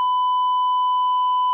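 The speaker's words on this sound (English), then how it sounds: "Where's the beep?" A steady censor bleep tone holds for about a second and a half, loud and unbroken, completely covering a spoken word with no voice audible beneath it.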